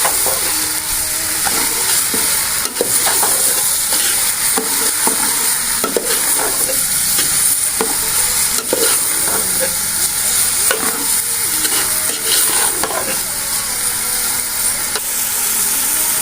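Onions frying in ghee for okra masala, with a steady, loud sizzle and crackle and repeated scraping of a stirring utensil throughout, no voices.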